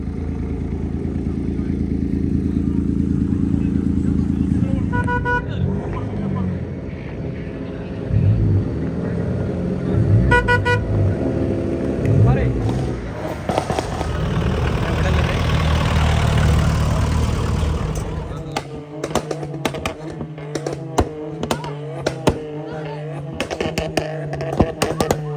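Cars and motorcycles lined up on a ground at an auto show in Kondotty rev and idle loudly, engines rising and falling with short bursts, and voices talk over the din toward the end.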